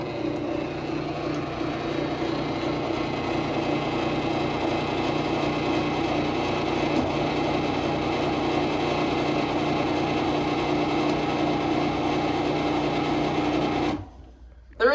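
A Stanley ST400 chain-drive garage door opener runs with a loud, even mechanical drone for about fourteen seconds, then stops abruptly.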